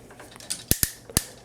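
Three crisp, close ratchet clicks from the shoulder joints of a PerfectEffect PE-DX09 Mega Doragon transforming robot figure as the arm is swung, coming quickly in sequence over faint handling noise.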